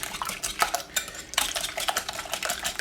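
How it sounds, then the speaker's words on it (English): Eggs for a steak and potato frittata are whisked in a bowl, a close, brisk run of rapid metal-on-bowl clatter in uneven bursts. "Give this another whisk."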